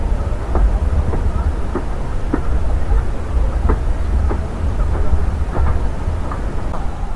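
The historic Mastrou locomotive train rolls along with a loud, steady low rumble, marked by faint rhythmic clicks from the rails that recur every second or so, with no talking.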